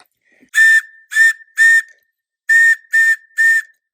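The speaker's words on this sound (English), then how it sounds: "if we wanted to do 3 whistle blasts, the international signal of distress" A shrill primitive survival whistle blown in two sets of three short, sharp blasts, the international distress signal, loud and close, with a brief pause between the sets.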